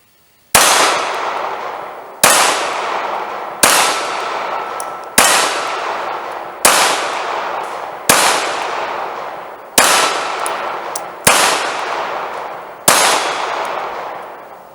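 Nine sharp pistol shots from a SCCY CPX-3 at an outdoor range, each a loud crack with a ringing tail, fired at a slow, steady pace with no talking.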